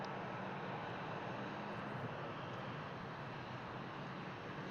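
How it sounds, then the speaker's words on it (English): A classic Iberia Airbus lining up for the runway at Brussels Airport gives off a steady, distant engine rumble and broad whine. "Currently we have smaller airplanes lining up for the runway, like for instance this one."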